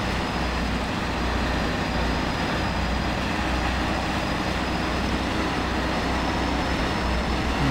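A heavy truck in the Spintires off-road driving game labors up a small climb over rough terrain, its engine giving a steady, dense, continuous drone that stays loud throughout with no talk over it.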